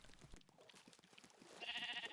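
Sheep bleating inside the Minecraft video game, a game-style animal call rising toward the end of the short stretch over a faint, busy background of other game sounds.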